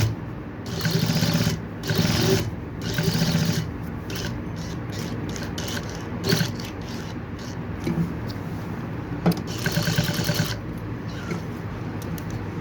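A sewing machine stitches a collar band in loud, close bursts of rapid whirring, starting and stopping repeatedly with short pauses between runs.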